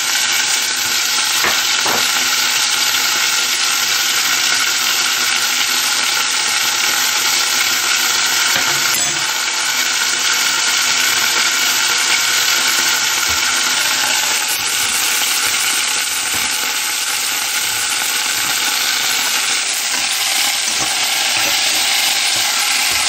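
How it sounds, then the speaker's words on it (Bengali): Onions frying in plenty of oil for a Chinese dish, a loud continuous sizzle with occasional stirring scrapes running steadily throughout, with no voices. "পেঁয়াজগুলো সুন্দর করে ভাজা হয়ে গেছে"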